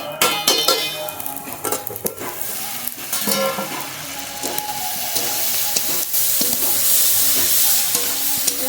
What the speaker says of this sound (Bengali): নেড়ে নেড়ে পেঁয়াজ আর টমেটো বেশ ভেজে নিয়েছি